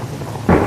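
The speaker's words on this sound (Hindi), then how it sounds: "बाहर बारिश की बूंदें शीशे से टकरा रही थी" Thunder rumbles during a thunderstorm as rain beats on a train window's glass, a steady wash of rain suddenly swelling into a louder, deeper roll.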